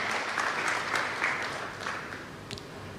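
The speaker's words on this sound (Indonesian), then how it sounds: "Kita berikan tepuk tangan bagi Tuhan yang dahsyat." A church congregation breaks into applause at a worship service, steady mid-level clapping that carries on throughout and fades slightly toward the end, with no voices over it.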